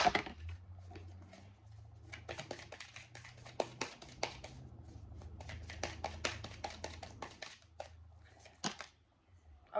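Animal spirit oracle cards being shuffled by hand, a long run of dense papery riffles and soft slaps up close, with a low steady hum underneath.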